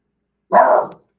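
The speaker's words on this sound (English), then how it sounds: "Sorry about my dog." A single loud, close dog bark, one short gruff burst in otherwise silence.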